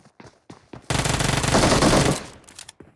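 Gunfire in the mobile game PUBG Mobile during a squad fight: a few short single shots, then a loud sustained automatic burst of about a second, followed by more scattered shots.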